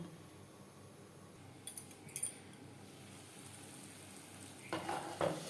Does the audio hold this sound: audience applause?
no